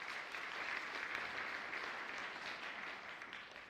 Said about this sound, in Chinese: 好，来拍手